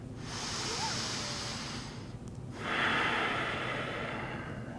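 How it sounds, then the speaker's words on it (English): Deep nasal breathing during a yoga cool-down: a long, steady airy inhale through the nostrils, a brief pause, then a fuller, louder exhale, close and continuous with no talking. "keep breathing deeply through the nostrils"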